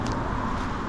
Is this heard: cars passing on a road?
yes